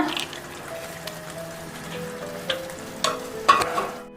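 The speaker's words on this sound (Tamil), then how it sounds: "ஃப்ரெண்ட்ஸ், நான் முந்திரியும் திராட்சையும் எடுத்திருக்கேன். இப்போ இதில் ஆட் பண்ணிடுங்க." Cashews and raisins fry in ghee in a pan for bread halwa, a steady close sizzle with a few clinks of a spoon toward the end.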